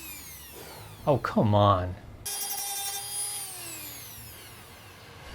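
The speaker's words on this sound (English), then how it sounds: "I'm going to use the Dremel to shave off just a little." A Dremel rotary tool shaving a car part on a Toyota AE86 project car lets out a thin, high-pitched whine that slowly winds down, just after a brief spoken exclamation.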